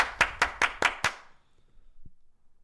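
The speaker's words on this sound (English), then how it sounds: "We can count and clap." Five sharp hand claps in a quick, even rhythm from hosts on a live sports talk show, close and loud, then quiet room tone with a faint thump.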